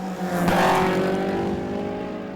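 MG and other British sports cars racing at Winton, engines roaring close by as a car sweeps past with a rising then easing note, loud and steady throughout.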